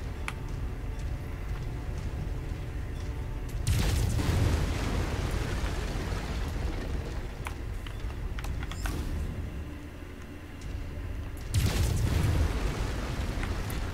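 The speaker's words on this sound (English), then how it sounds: "Why do I hear explosions?" Repeated heavy booms and rumbling blasts in MechWarrior 5: Mercenaries roll through a dense, noisy background, with two especially loud bursts standing out near the start and end.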